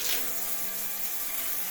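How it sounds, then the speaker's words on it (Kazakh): A home shower runs in a bathroom with a steady, hissing spray of water that stays fairly loud and unbroken, with no voices. "Душ ұрып тұр."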